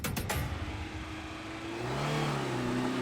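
A car engine revs up and pulls away after a few sharp knocks at the start, its whirring tone climbing steadily in pitch, close and fairly loud.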